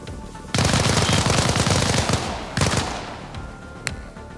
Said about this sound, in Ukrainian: Але не бачу по кому стріляють і хто